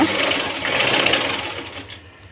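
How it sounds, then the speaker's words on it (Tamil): A sewing machine stitching two cloth mask pieces together, a rapid continuous mechanical whir close by that tapers off at the end. "இது 2ஐயும் சேர்த்து தைச்சிக்கிடுவோங்க."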